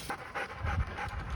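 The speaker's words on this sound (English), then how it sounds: "Them's the dogs." Siberian huskies pant close by, rapid rhythmic breaths in and out repeating steadily over a short stretch with no voices.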